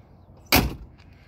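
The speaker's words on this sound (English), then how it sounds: "I'll show you how the doors close." The steel door of a restored 1964 Corvair Monza Spyder convertible shuts with a single solid, close thud, followed by faint small rattles.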